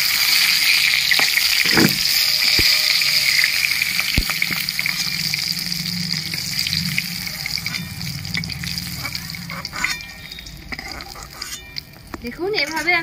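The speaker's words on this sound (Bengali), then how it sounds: "বাদবাকি পনিরগুলো ভেজে নেব।" The remaining paneer pieces sizzle in hot oil with a continuous frying hiss, broken by a few sharp clinks and stirring knocks near the end.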